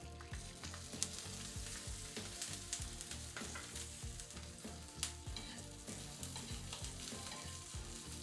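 Oil sizzles and crackles in a pan while ingredients for Maharashtrian pithla fry, a steady close-up spattering with occasional sharper pops and faint stirring, fairly quiet and with no speech.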